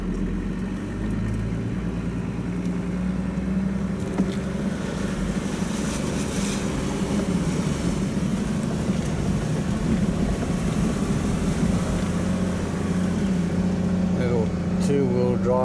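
A car drives through a flooded creek crossing at Alberga Creek on the Oodnadatta-Marree track. A steady engine rumble mixes with continuous water wash and wind buffeting across the whole stretch, close and fairly loud.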